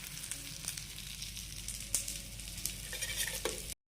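Potatoes drop into hot oil already used for frying prawns, sizzling steadily and close up with a few sharp crackles and stirring clicks over a few seconds.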